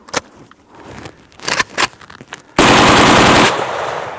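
A faulty gun fires a short rapid burst of a couple of rounds and then stops, a loud close rattle lasting about a second, preceded by handling clicks and scrapes.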